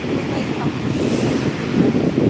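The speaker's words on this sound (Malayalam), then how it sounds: "വലിയ തിരമാല വരുന്നുണ്ട്" Big ocean waves crash and surge at Vettukad beach with a loud, continuous roar mixed with blustery wind on the microphone.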